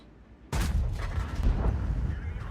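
A tank cannon fires in the World of Tanks video game: one sudden loud boom followed by a sustained rumbling roar that lingers to the end.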